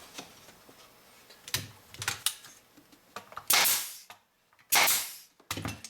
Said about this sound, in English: Glue it, staple it, move on.